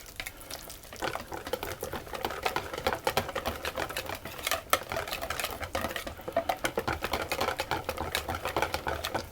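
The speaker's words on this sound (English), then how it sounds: "I'm going to stir or whisk the butter in, and I'm going to do it a little bit at a time." Butter being whisked a little at a time into a lemon tart filling, a steady run of quick rhythmic clicking and scraping strokes in a bowl, fairly close and continuous with no talking.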